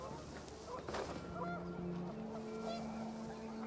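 Panicked geese in the video game What Remains of Edith Finch let out a few honking calls over a low rumbling background, moderately loud and fairly close.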